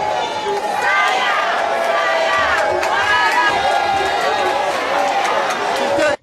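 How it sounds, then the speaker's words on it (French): A packed hall crowd shouts, cheers and sings with joy as a political candidate pair enters for their investiture, a dense, loud, continuous roar of many voices. "Leur entrée dans la salle était aussi dans une ambiance très chaleureuse, remplie d'engouement, de cris et chants de joie."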